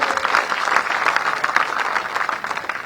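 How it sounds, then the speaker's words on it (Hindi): A crowd at a Rajasthan election rally claps loudly and continuously for the people on stage, a dense wash of many hands with no letup. "एक बार मंच वालों के लिए जोरदार तालियां बजाओ"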